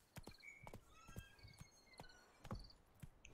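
Rhythmic hoofbeats of a galloping horse in the video game The Witcher thud in quick, even strides, faint and close, with soft chirps and rustling in the background.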